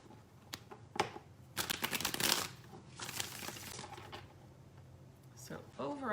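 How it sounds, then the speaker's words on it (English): Tarot cards are shuffled up close in quick riffling, flapping bursts, with a louder run in the middle and soft rustles between. A voice can be heard faintly at moments. "let's pull an overall theme card for the month of May."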